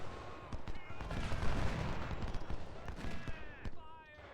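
Musket volleys crackle in the Ultimate General: Civil War game, a rolling mix of scattered shots and clustered firing at moderate distance, with battle noise continuing throughout.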